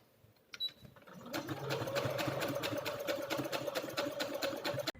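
A sewing machine stitches around a fabric pocket corner with a rapid, even needle clatter that starts after a brief pause and runs steadily close by, with a small click at the start.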